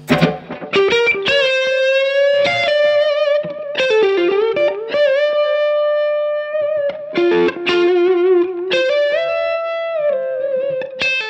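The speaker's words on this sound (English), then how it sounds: "so you hear the drive into the compressor." Electric guitar run through a Keeley Aria overdrive feeding its compressor section, with the drive placed first: loud, sustained, gritty notes and chords ringing out, with compressed, even sustain and slight modulation shimmer across the whole passage.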